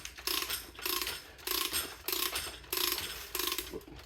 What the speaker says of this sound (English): So the reamer goes in, it ratchets down.